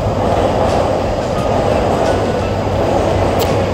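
A train rumbling past near Harajuku station in Tokyo, a loud continuous roar of rolling wagons with faint rail clatter throughout and no voices.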